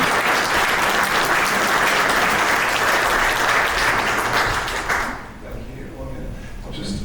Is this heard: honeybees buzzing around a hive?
no